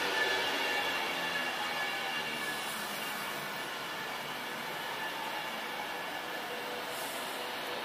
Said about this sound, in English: So as this train pulls in, I shall end the video here